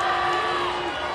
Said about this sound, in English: Here comes that Chicago crowd, smelling blood in the water